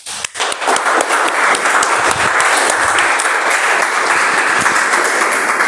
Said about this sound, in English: Better round of applause, come on